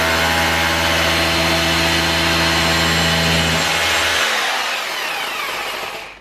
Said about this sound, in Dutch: Gaten boren.